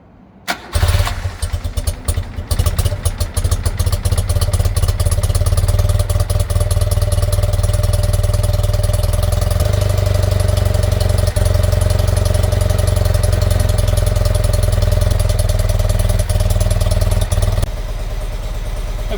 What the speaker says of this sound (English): I'm going to fire up the bike, get it warmed up a little bit